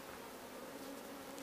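A close, steady hum of honeybees fills the air around comb being shifted into a top bar hive, unbroken and even throughout.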